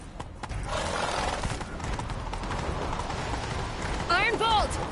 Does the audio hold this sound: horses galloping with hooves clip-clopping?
yes